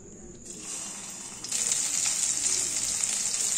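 Rohu fish chops coated in semolina fry in white oil in a wok with a steady, close sizzling hiss that jumps louder partway through as more oil spatters, with no speech.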